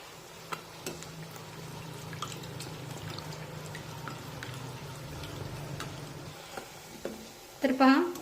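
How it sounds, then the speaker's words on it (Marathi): Potato puris deep-fry in hot oil for a fasting recipe while oil is ladled over them with a slotted spoon. A soft, steady sizzle runs throughout with small clicks, ending in a brief louder clatter. "झाऱ्याने पुरीवर असं तेल सोडत राहायचं म्हणजे मग पुरी छानपैकी तळली जाते"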